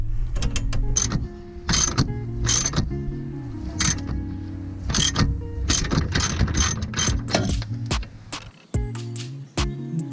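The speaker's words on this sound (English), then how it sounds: "I just got a wrench on one side, small breaker bar on the other." A wrench and small breaker bar working a rear control arm bolt on a Mk1 Audi TT 225 (8N): a close run of ratcheting clicks in quick, irregular bursts, with brief pauses between strokes.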